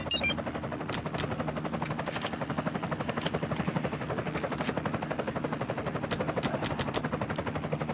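A helicopter in the shooting game Zombie Hunter, a fast steady rotor chop running throughout at moderate level with sharp gunshot-like cracks over it.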